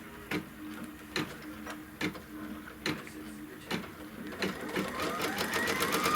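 A Kimberbell embroidery machine stitches a tack-down line with a steady run of mechanical clicks and needle taps that speed into a rapid, whirring stitch toward the end, close and alone.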